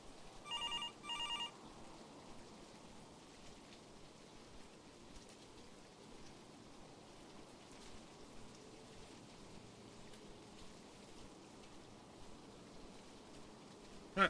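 A telephone rings in the air traffic control game Tower Simulator 3: a short electronic ringing burst at the start, then fades into a soft, steady rain-like hiss that carries on alone.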